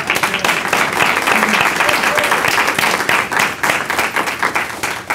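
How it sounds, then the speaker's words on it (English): Audience applause at a community awards ceremony honoring a mentor of the year, a dense steady wash of clapping from a sizable crowd sustained throughout, fairly loud and close. "I want to give a round of applause again to our Mentor of the Year, Mr. Michael Hunt."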